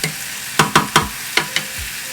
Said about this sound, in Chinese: 炒匀， 加入3汤匙的水。